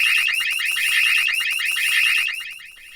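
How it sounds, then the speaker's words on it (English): A countdown timer alarm rings out loud and alone, a rapid, harsh repeating electronic beeping that continues for about three seconds before easing slightly at the end. "this one is just about to count down and to set off a horrible noise."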